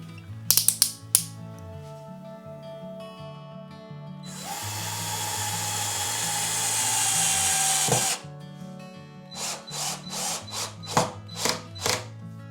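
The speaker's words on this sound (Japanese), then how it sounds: "水平を確認したら、他のネジを留めていきたいと思います。" A power drill drives screws into cafe-board timber for a DIY wooden loft bed: a few ratcheting clicks, then a sustained rising motor whine lasting several seconds that cuts off abruptly, followed by short repeated bursts of the drill, close and loud.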